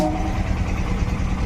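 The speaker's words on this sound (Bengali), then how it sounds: "বন্ধুরা দেখছো ট্রেনটা ছেড়ে গেল আমাদের" A train pulling away from a station near Mathurapur, heard as a steady low mechanical rumble and drone that holds at a constant level throughout the short stretch, with no voices present.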